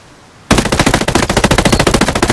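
Rapid, sustained machine gun fire from Ghost Recon Breakpoint bursts in after a brief quiet, loud and close with a steady rattling rhythm.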